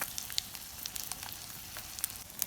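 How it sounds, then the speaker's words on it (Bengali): Egg pitha frying in a pan, a constant light sizzle punctuated by many sharp crackles and pops at irregular intervals, close and moderately quiet. "আমি 1 মিনিট একটুকে ভেজে নেব এরকম করে"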